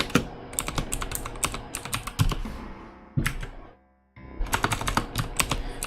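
Rapid clacking keystrokes on a computer keyboard come in quick bursts, close and crisp, broken by a short pause of near silence before the typing resumes.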